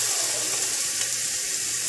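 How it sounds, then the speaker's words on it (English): Patties sizzle in a frying pan with a steady, loud, hissing crackle that holds evenly throughout at close range, with no talk. "Cook them up just like if you were pan frying a burger"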